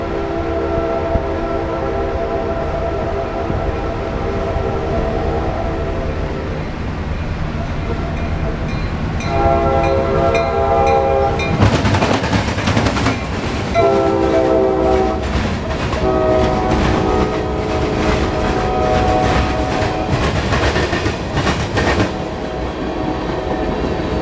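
A train passes close by, its horn sounding in long loud blasts while the rail cars rumble and clack steadily along the tracks, no voices.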